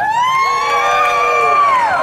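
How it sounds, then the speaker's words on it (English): A crowd at a car show awards ceremony in Milwaukee cheers and whoops for winners of the Real Street Eliminator class for 1982 and older cars, loud and sustained, with sharp shouts and whistles rising and falling over about two seconds. "where the crowd goes nuts right now"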